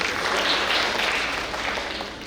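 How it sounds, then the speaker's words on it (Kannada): An audience at an annual church feast gathering claps in a loud, dense burst of applause that holds steady and then tapers slightly toward the end. "ಮತ್ತೊಂದು ಚಪ್ಪಾಳೆ ಹೋಗಿ"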